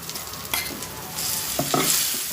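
Tempering for sweet potato chutney sizzling in a pan, a close crackling fry with a few sharp spatter bursts and stirring clatter over a couple of seconds, no voices.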